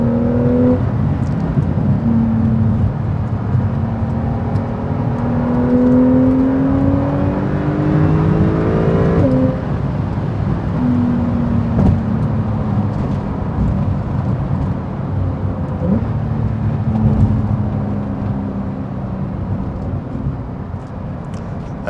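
A 2018 Porsche 911 Carrera S driven on a city street, its engine note rising and falling through repeated accelerations and gear changes, heard loud and close from inside the car with a steady road rumble underneath.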